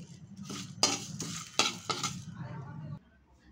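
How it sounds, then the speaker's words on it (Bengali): Whole spices dry roasting in a pan over a low gas flame, stirred with a spoon that scrapes the metal in a few distinct strokes over a soft low rumble, then going quiet near the end. "গ্যাসের ফ্লেমটা লো করে আমি মশলাটাকে একটু গরম করে নিচ্ছি।"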